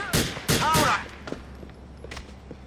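Gunfire during a firefight in GTA 4 Ballad of Gay Tony: three loud close shots in quick succession, followed by fainter scattered distant shots.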